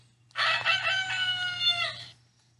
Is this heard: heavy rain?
no